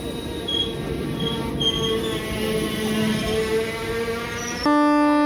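A train arrives at Tarikere station with wheels squealing on the rails in long, high, wavering tones over a steady rumble, and a loud sustained horn-like blast cuts in near the end.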